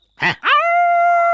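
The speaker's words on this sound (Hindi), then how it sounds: "अरे सत्यानाश, ये कुत्ते की आवाज है।" A sharp dog bark, then a long drawn-out howling whine that holds steady to the end, close and loud.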